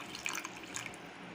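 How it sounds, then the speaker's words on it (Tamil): Water trickling and splashing into a mixer jar with watermelon and sugar at close range, quiet and continuous, with no one speaking. "இது கூட கொஞ்சமாக தண்ணி சேர்த்துக்கலாம்"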